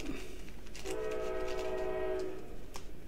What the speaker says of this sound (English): Don't mind the train. I live next to a train station.